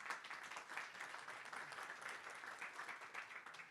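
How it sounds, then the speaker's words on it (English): Audience applauding Pedro at a conference session on connected and automated mobility, a steady even wash of clapping that carries on throughout without pause. "Applause for Pedro."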